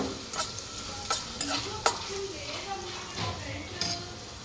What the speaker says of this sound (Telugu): ఆనియన్స్, చిల్లీస్ వేసి వేపుదాం